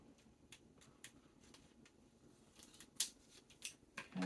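Scissors snip through paper card for Christmas card crafting, a series of quiet, close, crisp cuts spaced irregularly, with a few sharper snips toward the end.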